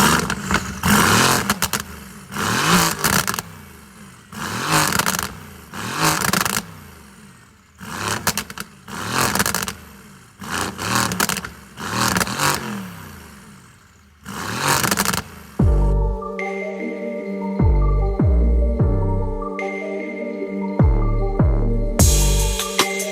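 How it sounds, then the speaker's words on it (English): A Mercedes-AMG GT under rebuild after a wreck revs repeatedly, about seven loud throbbing bursts of engine and exhaust roar with short dips between, then the sound shifts to tonal electronic beeps and chimes near the end. "Let's go ahead and see what the exhaust on this thing sounds like"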